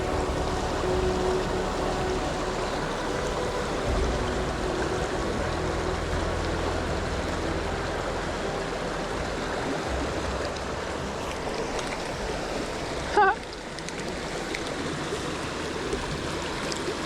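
A small mountain creek in California runs steadily over rocks, a continuous close rushing wash of water, broken briefly by one sharp knock near the end.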